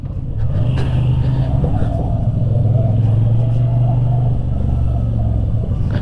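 A Moto Guzzi motorcycle passing on the road, a loud, close, steady engine rumble that holds for several seconds with a slight swell.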